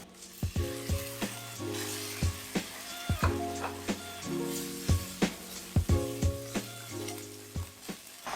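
Food fries and sizzles in a hot pan with a steady crackle, broken by frequent sharp clacks and scrapes of stirring, and a low tonal hum runs underneath.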